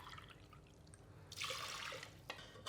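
Water poured into a pot holding about two cups of rice, a faint soft trickle that swells into a steadier stream partway through, heard quietly at a distance.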